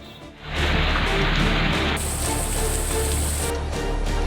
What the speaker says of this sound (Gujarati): એક કલાકમાં અઢી ઇંચ વરસાદ અહીં ખાબક્યો